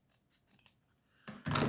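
Scissors snip through material for a handmade crown craft project, a few faint close clicks and then a louder, sharp cutting rasp at the end.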